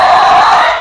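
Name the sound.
monster's terrifying scream sound effect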